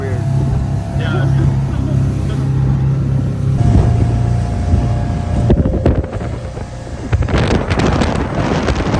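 A boat runs fast across heavy waves on Lake Superior, with a steady engine drone, wind buffeting the microphone, and water slapping and crashing against the hull, louder toward the end. People talk over the noise.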